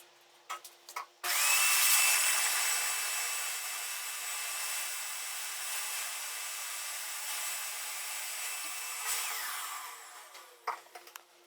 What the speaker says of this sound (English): I used the vacuum cleaner to clean up a little bit of the mess